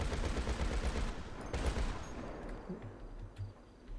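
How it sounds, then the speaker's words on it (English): Rapid bursts of cannon fire from a half-track truck in GTA 5 Online crackle in quick succession, dense at first and then thinning into scattered shots, with no talking. "the cannon, it has a pretty good fire rate, unlimited bullets obviously"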